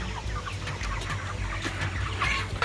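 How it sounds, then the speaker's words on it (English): Chickens clucking inside a farm coop, a steady cluster of overlapping clucks and squawks near and moderately loud, with low hum in the background. "we are going inside now to give these chickens some feeding"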